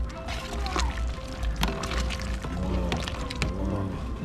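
Thick, warm Jamaican soup pours and sloshes steadily into a pan up close, with small splashes and clinks throughout.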